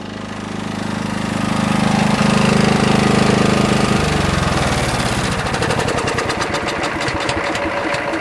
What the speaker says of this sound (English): I cranked this baby up, but she starts right up, even on the coldest days.